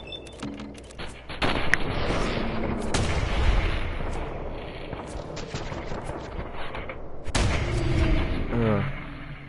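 Gunfire in Fallout 4, several loud sharp shots and bursts scattered across the stretch amid game ambience and clatter, close and punchy.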